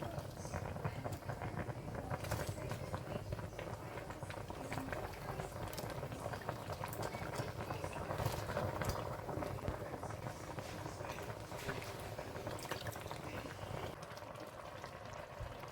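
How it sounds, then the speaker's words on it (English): A pot of stock boils steadily for ogbono soup, a continuous and fairly loud bubbling, rolling boil, with faint kitchen clatter mixed in. "I added the dried mangala to the boiling stock"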